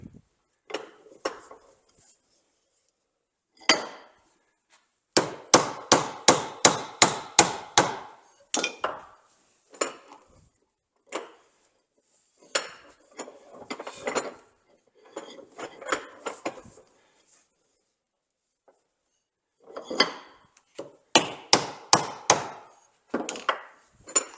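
A wooden stick is hammered through a 17/32 hole in a dowel plate, sharp wooden knocks arriving in fast bursts of several blows separated by pauses, loud and close.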